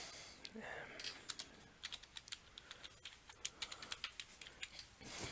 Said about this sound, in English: Then you would come up here, type that in.